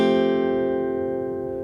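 Single guitar chord from the bridge of a song, struck once and left ringing, steady and clear, slowly fading, with nothing else around it.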